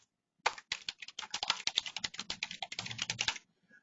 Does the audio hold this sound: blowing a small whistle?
no